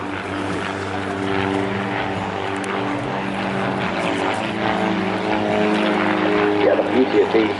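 Two small, lightweight Twister kit aircraft with upgraded engines and smoke perform at the Bournemouth Air Festival, their propeller drone steady and droning overhead beneath continuous commentary from an announcer.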